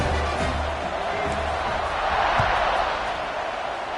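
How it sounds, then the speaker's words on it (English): Broad, steady crowd noise fills a college football stadium just before kickoff at an NCAA game, a continuous roar that swells slightly midway with no clear speech on top. "They're set to kick it off, and this crowd now ready to get behind them."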